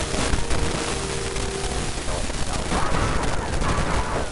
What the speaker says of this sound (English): I owned you all in 2 shots